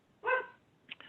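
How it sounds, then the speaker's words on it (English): A dog barks somewhere in a home during an online committee meeting: one fairly faint, short bark, then a smaller yip shortly after, with a quiet room behind it. "My dog's barking over here too."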